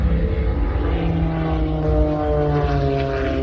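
Extra 330 aerobatic plane hovering on its propeller at an air show, a steady loud propeller drone with layered engine harmonics that rise slightly in pitch, with no voices.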